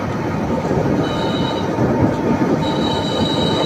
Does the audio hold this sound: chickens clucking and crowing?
no